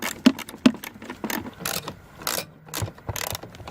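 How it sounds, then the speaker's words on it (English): A ratchet clicks in quick uneven runs while screws come out of a Chevy dashboard, close up and moderately loud, with small metallic knocks and shuffling between the strokes. "I'm gonna take these screws off so we can see the whole thing"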